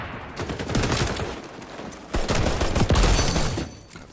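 Gunfire and a grenade blast in the XDefiant shooter game, with dense, loud, continuous bursts of rapid shots and heavier explosive hits throughout, no talk.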